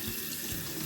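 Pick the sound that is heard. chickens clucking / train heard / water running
water running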